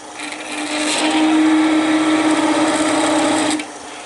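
A Sorby spiraling tool held tip-flat against turning wood on a lathe at about 450 to 500 RPM gives a steady, loud buzzing whir lasting about three seconds, then cuts off.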